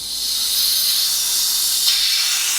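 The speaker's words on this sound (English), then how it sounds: "So while that compressor drains all the air out" Steady, loud hiss of compressed air escaping as an air compressor is drained during work on an abandoned Ford Sierra Sapphire RS Cosworth, continuous and unbroken with a slight brightening near the end.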